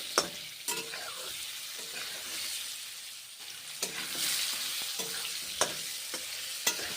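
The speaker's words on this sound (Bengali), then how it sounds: "এইভাবে পটলগুলো ভেজে নিচ্ছি" Pieces of pointed gourd (potol) fry in oil seasoned with salt, turmeric and black cumin, making a close, bright, steady sizzle with several sharp spatula taps on the pan at irregular intervals.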